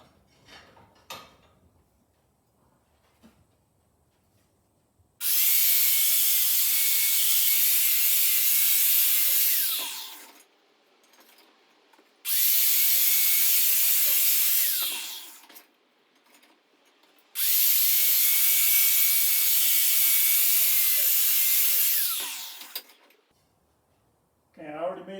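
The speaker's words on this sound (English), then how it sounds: "I'm going to run my high-speed flap wheel across the edges here." High-speed flap wheel grinding sharp metal edges on a fabricated shifter mount: three long, loud bursts of harsh hiss, each running several seconds with brief quiet gaps between, close by.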